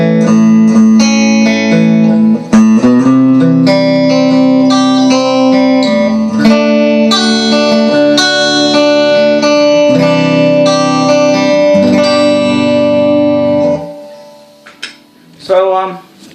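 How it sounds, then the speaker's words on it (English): A hollow body guitar run through a Boss acoustic simulator pedal rings out loud chords and picked notes, bright and resonant, for most of the stretch before fading and a few stray plucks close it. "Then you have this neat Boss pedal, which is an acoustic simulator"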